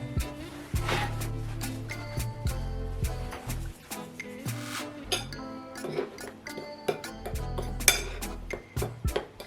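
A spoon or whisk scrapes and clinks against a bowl while thyme is stirred into a flour mixture, irregular close tapping and clinking at a soft level.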